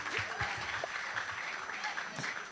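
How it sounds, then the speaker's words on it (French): Audience applause at a live stage show, a steady wash of clapping that sounds somewhat distant and moderate in level, with faint voices mixed underneath. "On l'applaudit, bébé Giscard, les messieurs."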